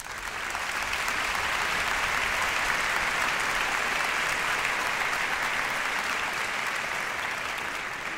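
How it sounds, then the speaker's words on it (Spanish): Warm, continuous applause from a Christmas charity concert audience for arranger César Guerrero, thick even clapping filling the hall for several seconds before easing slightly at the end. "Me gustaría que le aplaudiera."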